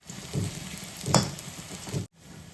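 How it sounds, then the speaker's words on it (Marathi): Long-cut onions sautéing in hot oil, a continuous bright sizzle with periodic louder bursts as the pieces are stirred, close and steady, cutting off abruptly near the end. "तेल गरम झालं आहे तर त्याच्यामध्ये हे लॉंग कट केलेले अनियन मी टाकते हे आपल्याला ब्राऊन होईपर्यंत सॉटे करायचं"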